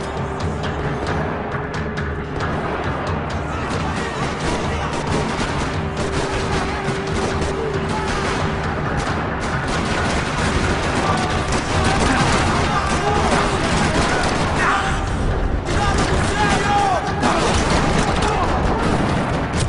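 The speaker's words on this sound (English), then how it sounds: "Another parking lot rattling with gunfire." Sustained gunfire rattles through a parking lot in the video game Max Payne 3: dense bursts of shots and booms mixed with game music and voices, loud and continuous throughout.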